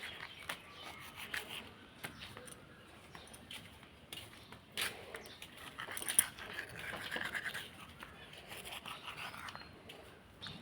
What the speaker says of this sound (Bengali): এই দেখো, এখন ব্রাশ করি।